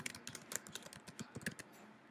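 Fingers tap briskly on a computer keyboard, a quick run of about a dozen close, crisp keystrokes in an uneven rhythm, fairly quiet and with no other sound.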